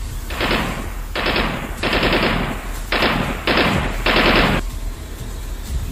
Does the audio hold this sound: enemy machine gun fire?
yes